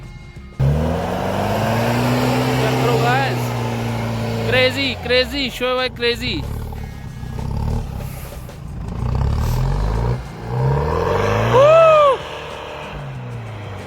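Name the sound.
off-road vehicle engine revving in deep snow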